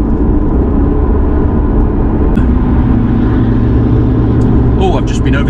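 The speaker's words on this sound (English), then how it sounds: "I've just been overtaken by a Skoda with a noisy exhaust." A Skoda's engine drones steadily up close, with a rough, noisy exhaust rumble running throughout as the car pulls alongside and overtakes.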